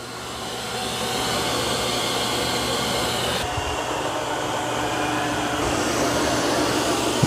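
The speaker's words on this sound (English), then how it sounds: "doing a really good job of vacuuming" A Eufy robot vacuum runs steadily while cleaning a floor, a continuous loud whooshing motor drone with a low hum and a slight shift in tone midway, near and alone without talking.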